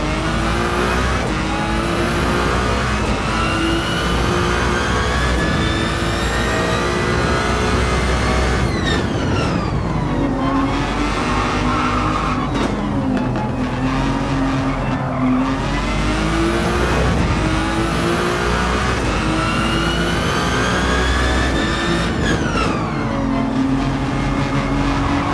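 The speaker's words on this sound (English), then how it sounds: "The gearbox is also loud, and so is the hybrid system." Hybrid hypercar racing in Gran Turismo 7, its loud engine howling through repeated upshifts and revs, with gearbox whine and hybrid system whir, continuous and close.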